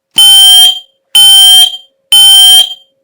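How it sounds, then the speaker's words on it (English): A smoke detector in alarm mode during a pairing test with a dispersed alarm unit sounds three loud, piercing electronic beeps, each about half a second long, evenly spaced and heard alone. "to activate the smoke detector, just press the top button"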